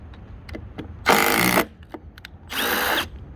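Milwaukee M18 or M12 impact driver sinking 2-inch screws, two loud, dense rattling bursts about half a second each separated by a short pause, close and alone with no talk.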